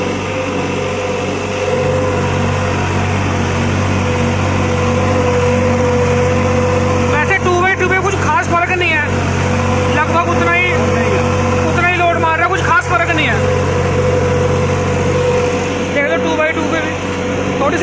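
New Holland 3630 4x4 tractor engine running near 2000 rpm, a loud, steady low diesel drone with a constant rumble throughout, while people talk over it.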